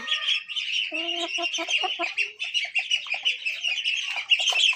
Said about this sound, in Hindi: ये रहा लाल वाला मुर्गा हमारा।